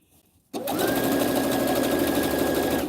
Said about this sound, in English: I struggle with sewing a straight line, and I've been sewing for a long time.